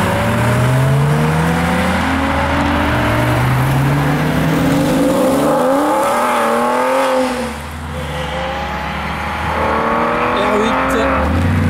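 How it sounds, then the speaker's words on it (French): Audi R8 with a modified exhaust revving hard at a car meet, loud rising and falling engine sweeps close by, with a brief dip before it picks up again. "R8, échappement modifié."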